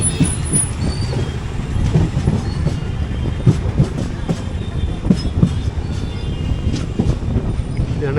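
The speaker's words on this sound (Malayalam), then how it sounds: "ഇത് മറ്റേ ബീദർ, വികാരാബാദ്, ബീദർ ആ സൈഡിലോട്ട് പോകുന്ന ട്രെയിനാണ്." A passenger train on the Vikarabad–Bidar line rolls past Lingampalli station, close and loud, with steady rumbling and repeated rhythmic wheel clacks throughout, plus faint voices in the background.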